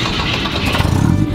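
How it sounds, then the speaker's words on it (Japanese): Exhaust note of a 1960s Volvo car engine running at a gathering, a steady loud rumble with a slightly rising, pulsing throb near the end. "これ 排気 音ですよ"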